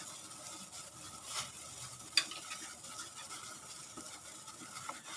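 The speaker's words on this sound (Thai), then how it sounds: "ตอนนี้น้ำซุปเริ่มเดือดแล้วนะคะ" Soup coming to a boil in a pot for Thai clear soup with pork-stuffed squid, a faint, steady bubbling and sizzling hiss with a couple of small clinks, quiet and without talk.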